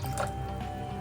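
Warm milk poured into a container, a brief continuous liquid splash and fill, close and steady, with no talking.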